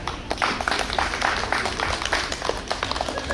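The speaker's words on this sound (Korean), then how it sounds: "자원봉사자들에게 큰 박수를 한번 부탁드리겠습니다" Applause for volunteers at a Namwon city ceremony, a dense steady patter of many hands clapping throughout, fairly distant and unaccompanied by talk.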